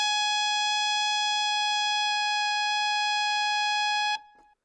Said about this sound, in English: So let's move on now to high F on the alto saxophone.